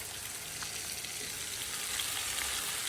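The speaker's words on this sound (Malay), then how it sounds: "Kita akan tumis sampai pecah minyak." Squid curry spice paste sizzles steadily in hot oil, a close, continuous crackling hiss with small pops throughout and no speech.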